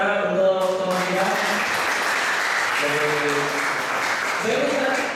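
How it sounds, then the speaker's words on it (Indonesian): Audience applause fills the room at an Islamic gathering, a dense steady clapping that runs the whole length, with a voice speaking over the start and again near the end. "Kita berikan aplaus sementara untuk teman kita."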